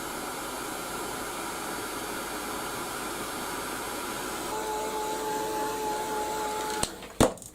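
Hot air from a heat gun blows steadily over a nearly dry mixed media artwork, a close, even whooshing roar that cuts off near the end, followed by a couple of sharp clicks and knocks.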